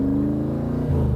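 A 1965 Shelby Cobra's engine runs steadily at light throttle while driving, a low rumbling drone with a pitch shift near the end, loud and close with no talk.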